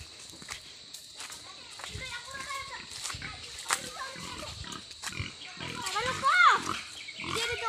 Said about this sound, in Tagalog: Pakain na kami ng baboy, guys.